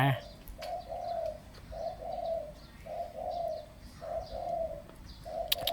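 A spotted dove coos in a steady rhythm, repeating its soft, rolling call about five times, fairly close, over a quiet outdoor background.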